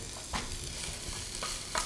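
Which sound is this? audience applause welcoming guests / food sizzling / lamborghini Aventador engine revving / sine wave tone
food sizzling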